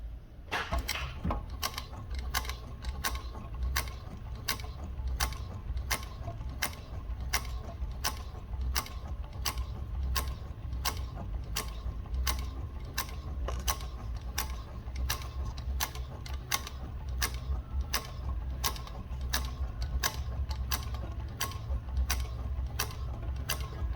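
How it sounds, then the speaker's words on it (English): A sewing machine with a roller attachment and suspended edge guide runs slowly around an inside circular curve, giving a steady, close mechanical whir with rapid regular ticking stitches throughout, no voices. "I'm going to try and do this where it's going to sew perfectly on this inside edge around in the circle"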